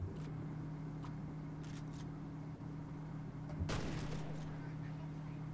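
A single gunshot in the shooter F.E.A.R., one sharp loud blast standing out against a quiet humming background, with faint scattered clicks earlier.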